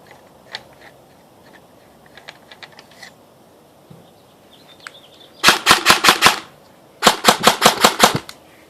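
Airsoft gun fired with its foam-filled suppressor removed: two loud bursts of about five and eight sharp rapid cracks, close by, after quieter handling clicks.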